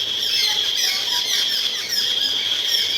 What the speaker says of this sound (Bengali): আর পাখিগুলো এত চিৎকার করছে, পাখিদের দেখছো?